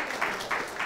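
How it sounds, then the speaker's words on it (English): Audience applause after an undergraduate economics debate, a steady wash of clapping with slight swells, moderately loud and heard alone without speech. "Can we give another round of applause to the negative team?"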